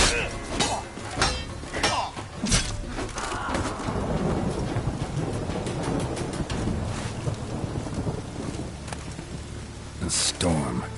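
Steady heavy rain hisses throughout with low rumbling thunder underneath in a PS4 video game, while voices talk over the storm.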